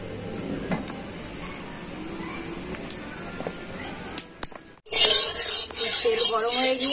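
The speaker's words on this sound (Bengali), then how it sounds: "তেল গরম হয়ে গিয়েছে, আমি এবারে ঝিঙেগুলো ভেজে নেব।" Ridge gourd dropped into hot soybean oil, a quiet low hiss and faint clinks giving way to a sudden loud, crackling sizzle in the last couple of seconds, close to the pan.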